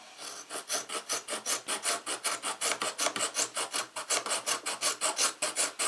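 Rapid, steady rasping strokes of a nicked kitchen knife pulled through a Smith's sharpener, close and continuous, with a regular back-and-forth rhythm.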